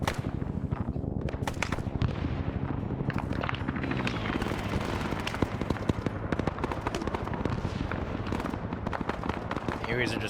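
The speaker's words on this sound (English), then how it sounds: "Hueys are just flying right in." Huey helicopters fly in during a Vietnam-era battle in the video game SOG Prairie Fire, their rotor drone buried in a dense, continuous wash of gunfire, explosions and voices.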